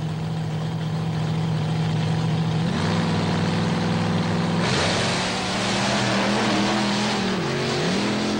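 Two monster trucks, Bulldozer and Sudden Impact, roar with loud, sustained engine revving as they launch side by side on the beach at Thunder on the Beach in Wildwood, New Jersey, pitch shifting as they accelerate.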